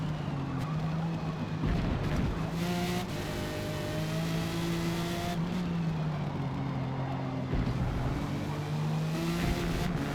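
A Jaguar XJR race car on sport tires in a racing game revs up and down through shifts, its loud engine note climbing and dropping over ten seconds, with brief breaks between gears and a faint tire squeal.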